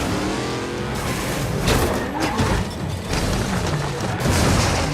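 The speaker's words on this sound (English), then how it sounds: "During the chaos, one driver crashes and dies, forcing Brian to veer off the GPS route to avoid the wreck." Street race cars in a Fast & Furious film crash scene: loud, continuous roaring engines and tire noise with heavy impacts and rumbling throughout, dense and chaotic with no quiet gaps.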